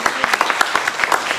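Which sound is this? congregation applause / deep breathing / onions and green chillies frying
congregation applause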